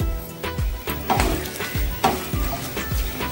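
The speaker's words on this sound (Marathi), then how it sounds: "हे छान परतून घेऊन मी कांदा घालून घेणार आहे।" Cloves, peppercorns and cashew pieces sizzle and fry in hot oil for soya pulao, with repeated stirring scrapes against the pan at a steady rhythm, close and clear, no talking.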